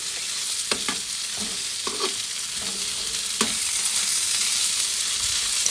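Okra and onion fry in a pan over a medium flame, a constant loud sizzle broken by several sharp scrapes and clatters of a spoon stirring the vegetables, close up with no talking.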